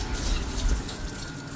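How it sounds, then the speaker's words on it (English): Soaking water poured off non-glutinous rice, a steady close gush of liquid draining over about a second and a half, fairly loud and continuous with no talking. "Drain off the liquid."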